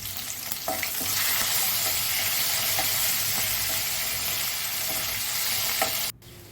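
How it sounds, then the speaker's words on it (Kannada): Curry leaves, chillies and crushed garlic fry in hot oil while cooking palak pappu, a close, steady crackling sizzle with light stirring that drops off near the end. "ಬೆಳ್ಳುಳ್ಳಿನ ಜಜ್ಜಿಕೊಂಡಿದ್ನಲ್ವ ಅದನ್ನು ಹಾಕ್ಕೊಂಡು ಸ್ವಲ್ಪ ಚೆನ್ನಾಗಿ ಹುರ್ಕೋಬೇಕು"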